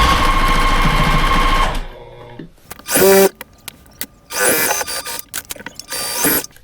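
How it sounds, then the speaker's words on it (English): A sewing machine runs in steady bursts while stitching a quarter-inch seam around an upcycled Bible cover, with a long continuous run first, then shorter loud spurts separated by pauses and small handling clicks. "we're just using it as a guide to sew around 1/4 of an inch"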